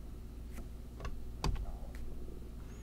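Computer keyboard keys clicking in a few scattered taps, fairly quiet and close, with one sharper key press midway.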